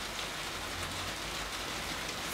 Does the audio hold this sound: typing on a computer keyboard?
no